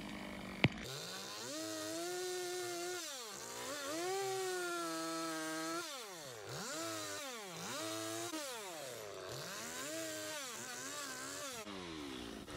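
Chainsaw carving a wooden bear, the engine revving up and down in repeated swells as the bar nose sands and cuts, loud and close with a sharp knock near the start, no talk.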